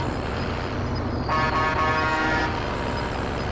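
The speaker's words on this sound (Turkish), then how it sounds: "Korna çalın, korna, korna çal." A truck horn honks in Call of Duty: Modern Warfare, one sustained blast of about a second over steady in-game engine and road rumble.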